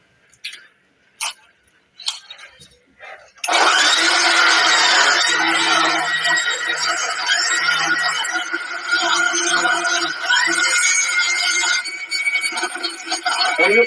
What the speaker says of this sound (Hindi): मिक्सी में इसे ग्राइंड कर देते हैं।